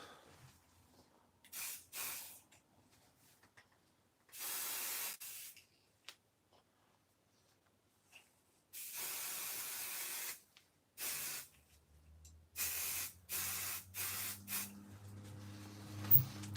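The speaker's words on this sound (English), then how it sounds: "All right, so let's go ahead and spray that." Spray can used on a foil craft project: several short bursts of hissing spray separated by quiet pauses, close and fairly faint, with light handling noises near the end.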